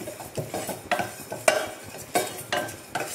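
Cumin seeds dry-roast in a hot pan over lowered heat, heard as a series of quick rhythmic scraping stirs about every half second over a light crackle, with no one talking.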